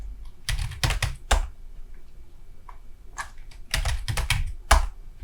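Keys clatter on a computer keyboard as a chart title is typed into a Korean word processor, coming in two clusters of quick, close keystrokes separated by a quieter pause, with no talking.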